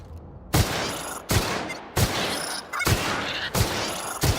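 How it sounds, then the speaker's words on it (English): Gunfire in The Outer Worlds video game, a series of six loud, booming shots spaced roughly half a second to a second apart, each followed by a rolling echo. "How many shots I need to do? One more, I guess."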